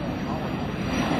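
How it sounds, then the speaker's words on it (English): An L-39 Albatross jet making an arcing pass at an airshow, heard as a steady, loud broadband engine roar held throughout, with what may be a voice beneath it. "this is going to be another arcing pass out in front of you, which gives him an opportunity to tip the jet up"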